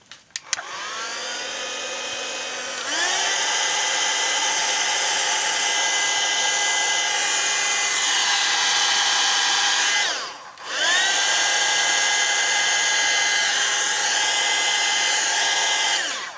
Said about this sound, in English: You can use any regular hair dryer, and let's dry this.